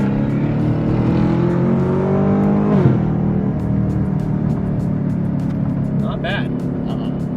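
A Chevrolet Camaro ZL1 drives along canyon roads, its engine droning loud and close with a steady low rumble and a brief rev shift partway through, while people talk inside the car.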